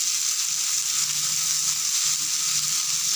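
Two chopped onions and a tomato fry in oil in a pan, a steady close hiss with faint low stirring scrapes and no voices.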